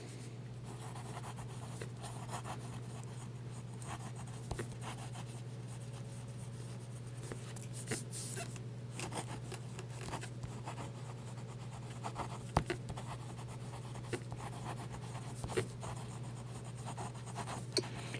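A Baoer 68 fountain pen with a medium nib scratches steadily across paper in faint, continuous strokes, with a low steady hum underneath and no talking.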